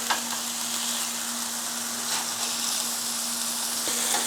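Hamburger patties sizzle on a griddle that isn't very hot, just after flipping, in 1950s-style burger cooking: a steady, close, soft frying hiss with faint crackles and a constant electrical hum underneath, no talking.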